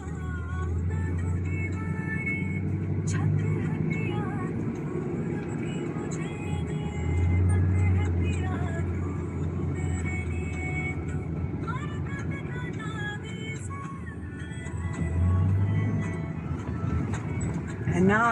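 Steady road traffic rumble of passing cars and buses, with engine hum swelling around the middle and near the end, heard continuously under people talking.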